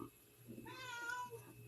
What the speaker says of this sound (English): that cat meowing in the background is one of our kitties